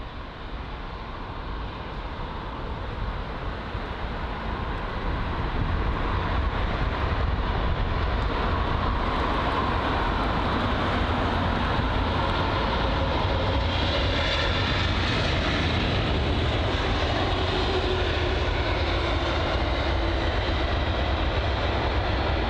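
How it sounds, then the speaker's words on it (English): An Airbus A330 arriving at London Heathrow, a steady broad jet-engine roar that swells after the first few seconds and holds loud and constant to the end, with no talk. "It's going to be an A330."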